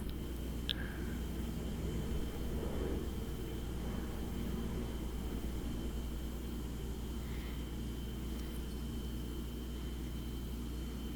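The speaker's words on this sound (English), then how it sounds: "we're going to be forgiving to the airplane sounds." A steady, broad rumble of an airplane passing overhead fills the whole stretch, constant and fairly loud with no voices.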